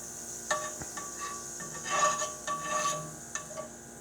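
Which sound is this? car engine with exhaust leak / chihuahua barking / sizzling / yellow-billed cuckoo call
sizzling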